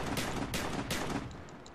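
Gunfire in a Call of Duty match: rapid bursts of automatic shots in a few clustered volleys, fairly quiet and distant-sounding, tapering off into softer scattered pops.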